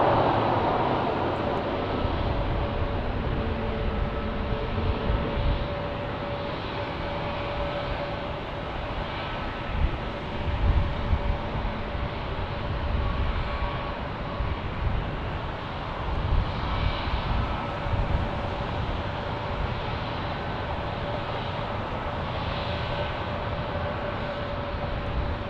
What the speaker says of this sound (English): we got some A321neo action right there